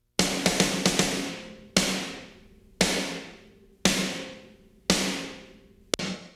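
Heavy snare drum hits, heavily compressed and fed into a Valhalla Vintage Verb reverb: a quick flam-like cluster then four big, evenly spaced strikes, each ringing out in a long compressed reverb tail, ending on one sharp hit.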